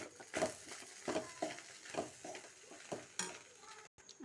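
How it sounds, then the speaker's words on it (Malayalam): Fish roe thoran being stirred in a pan after salt goes in, short dry scraping strokes in an uneven rhythm over a faint sizzle, close and quiet, with no voices. "ഉപ്പിട്ടിട്ട് ഒന്നുകൂടെ ഇളക്കി നല്ലതായിട്ട് ഇളക്കി കൊടുക്കാം"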